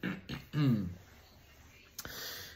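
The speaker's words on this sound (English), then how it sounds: "gotta clear my throat" A man clears his throat once before a Bible reading, giving a short, rough, close burst near the start that fades into quiet room tone with a faint click later.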